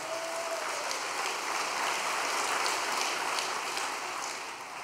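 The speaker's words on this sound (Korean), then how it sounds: "승리하신 참 아버님께 다시 한번 감사와 영광의 박수를 올려주시기 바랍니다." Congregation applause at a Korean church gathering, a steady, dense wash of clapping that holds evenly for several seconds at moderate distance before easing slightly at the end.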